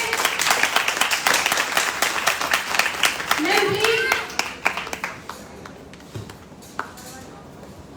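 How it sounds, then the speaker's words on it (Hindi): An audience at a company mega show applauds with dense, lively clapping that gradually thins into scattered claps, while a voice speaks briefly over it near the end. "जोरदार तालियां राजकुमारी मैम के लिए।"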